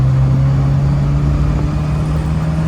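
A 1973 Triumph Spitfire Mark IV 1500 sports car driving, its engine giving a loud, steady droning hum close by, with no talk over it.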